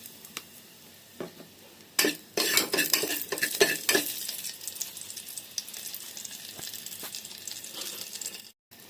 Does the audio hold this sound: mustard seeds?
yes